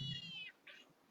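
A cat meows once, a short high plaintive call sliding downward, then a fainter second mew, fairly near over a quiet room hum.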